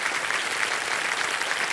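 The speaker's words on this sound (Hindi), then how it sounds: "जोरदार तालियां" A studio audience on a TV quiz show claps steadily and loudly, a dense wash of applause that holds at an even level with no voices over it.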